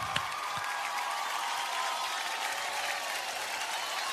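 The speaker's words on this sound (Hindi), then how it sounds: "इस टीम के लिए जोरदार तालियां होनी चाहिए" A large audience at the 2020 Star Guild Awards applauds the Diya Aur Baati Hum team after it wins Best Ongoing Drama Series. The dense, sustained clapping from many hands holds steady at a moderate distance.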